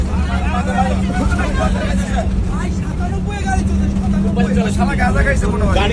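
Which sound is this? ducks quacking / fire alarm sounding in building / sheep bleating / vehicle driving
vehicle driving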